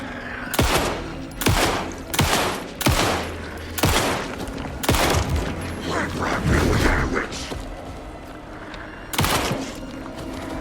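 Repeated gunfire bursts from a shooter in the horror game Alan Wake 2, loud close shots in a stop-start rhythm of about seven volleys, with mechanical clicks between them and no talking.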